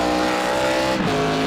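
An ARCA race car engine in the iRacing sim holds a steady, loud harmonic drone through second and third gear on the Indianapolis road course, with a brief dip and shift near the middle of the run.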